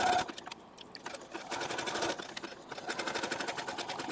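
A domestic sewing machine runs a zigzag stitch through quilting fabric with a universal J foot, a rapid rhythmic needle clatter in short bursts and then a steadier run, close and clear.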